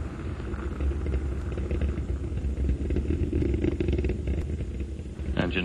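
Space Shuttle Atlantis main engines roar during the STS-43 launch, a continuous heavy low rumble with crackling texture, steady and loud throughout.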